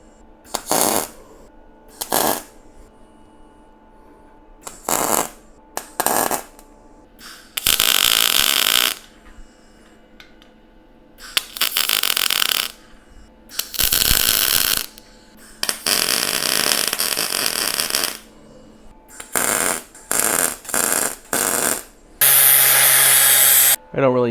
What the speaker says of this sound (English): I'll get these tacked in, put a little weld in the back of it